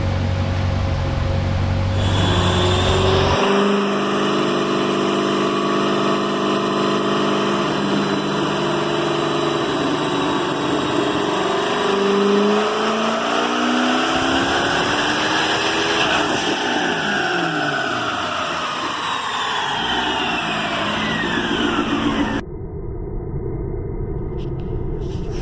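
A car engine on a dyno making a low-boost power run, roughly 446 horsepower and 504 lb-ft of torque, holds a loud sustained roar with a pitch that rises and sweeps over about twenty seconds, then cuts to a quieter drone near the end.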